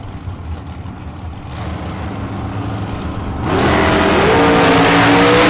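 A dragster launches at a big-money bracket race, a steady engine drone building until a sudden loud surge of revving power takes over and holds strong to the end.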